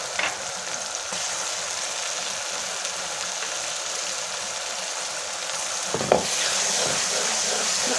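Masala with green chillies fries steadily in a pan for chana dal, a dense continuous sizzle with a brief stir or scrape near the end, no voices.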